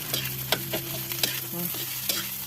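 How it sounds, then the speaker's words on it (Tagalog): Rice and egg stir-fried together into simple fried rice, a steady sizzle under repeated scraping and clacking of a spatula against the pan in an irregular rhythm, close and fairly loud. "Ilalagay namin sa kanin na piniprito na sinasangag."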